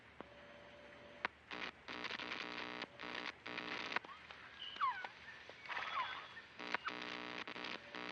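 A phoenix bird call recorded in the jungle in the video game Metal Gear Solid: Peace Walker: a few bright, quick chirping sweeps in the middle, set among choppy bursts of in-game sound and music.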